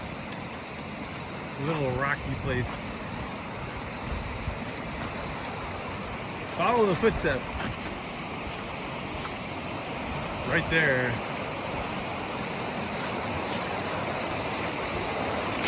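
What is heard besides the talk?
river stream at a trail water crossing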